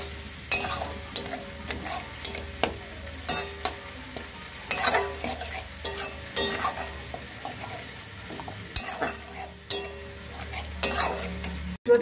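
Cumin and coriander spice paste loosened with a little water and sautéed in a pan for a cucumber curry with fritters, a low sizzle under repeated spatula scrapes and clacks against the pan, no talking.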